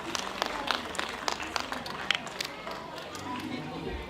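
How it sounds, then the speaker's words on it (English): Audience applause at a Gold Coast Show opening ceremony, a steady spread of clapping from a crowd with scattered sharper claps throughout, moderately loud and sustained. "Your applause, please, Doug."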